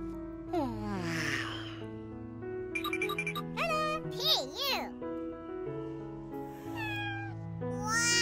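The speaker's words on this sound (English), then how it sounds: "Your kittens are so cute." Kittens meowing in a cartoon scene, several high, gliding mews scattered among voices and a playful musical backing, with a child-like voice talking throughout.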